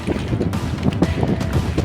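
Wind gusts across rippling water at a fish pond, a steady rough rumble of wind buffeting the microphone with faint splashing mixed in, close and continuous.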